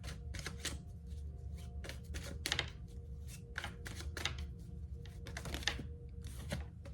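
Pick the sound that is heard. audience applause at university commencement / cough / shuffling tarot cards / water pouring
shuffling tarot cards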